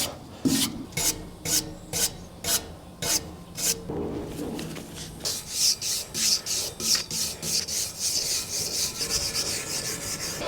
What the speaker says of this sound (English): So we got most of the surface rust cleaned off this pit all the way around with my wire brush